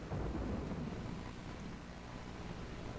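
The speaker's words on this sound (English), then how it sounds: "looks like we got a bad case of rain" Rain and rolling thunder in the Total War strategy game, a low, distant rumble over a steady hiss of rainfall, fairly quiet and continuous, with no voices.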